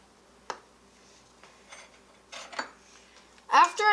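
Glue and food coloring being stirred together in a container: a few sparse, light clinks and taps spaced over several seconds, then a brief louder scraping burst at the end.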